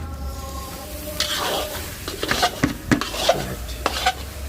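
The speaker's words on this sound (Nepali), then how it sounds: "यो चप गरेको प्याज गयो, यो चप गरेको गोभी गयो" Chopped onion and cabbage are tossed and stirred in a pan for Schezwan chutney, with a sharp series of close metallic scrapes and clinks over a faint sizzle, and no talking.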